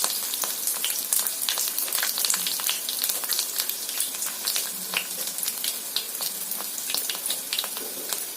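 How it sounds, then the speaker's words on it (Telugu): Ridge gourd pieces fry with dried red chillies in a pan on a low stove, giving a steady, close crackling sizzle with dense, continuous sputtering pops throughout. "బీరకాయ ముక్కలు అయితే వేసేసుకున్నాం ఫ్రెండ్స్."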